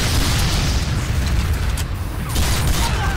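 A rocket blast in the video game Team Fortress 2, fired point-blank at a pyro: a loud, dense boom that rolls on as a sustained broadband rumble for about three seconds, with no speech over it.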